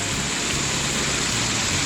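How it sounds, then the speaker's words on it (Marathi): Heavy monsoon rain pours steadily on a trek to Siddhagad fort near Murbad, a dense, unbroken hiss that fills the whole stretch with no voices over it. "मुसळधार पाऊस आहे"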